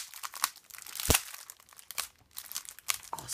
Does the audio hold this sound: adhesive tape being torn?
yes